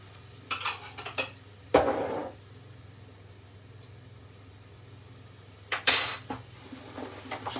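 Potato wedges tossed in coconut oil in a pan or dish, a few clinking scrapes and metallic taps of a utensil against the vessel in short bursts separated by quiet pauses.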